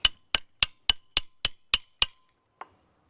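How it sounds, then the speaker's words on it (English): Eight sharp metallic hammer strikes in an even rhythm against a corroded, stuck valve on a car's catch can setup, each ringing briefly, followed by one softer knock, loud and close. "Hammer. See if I can knock this loose."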